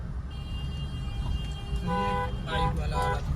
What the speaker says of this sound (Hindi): हॉर्न दीजिए, हॉर्न इसको बाइक वाले को